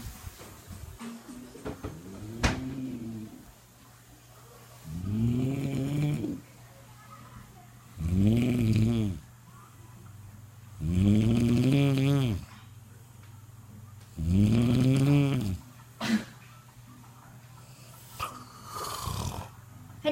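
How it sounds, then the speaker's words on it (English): A man snores loudly and rhythmically, about five long, rattling, pig-like inhalations separated by quiet pauses, heard up close in a home while he sleeps. "My dad's snoring like a shaver or a pig."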